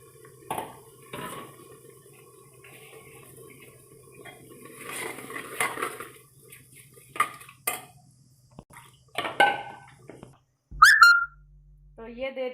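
Steel pressure cooker lid and pots clattering in a home kitchen while rice is cooked, scattered metallic clanks and scrapes over a quiet background hum, ending in a sharp clang and brief squeal.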